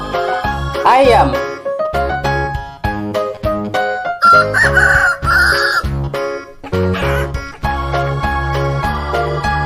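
A farm rooster crows over a steady backing of upbeat music, the call rising and trailing off amid the bouncy tune.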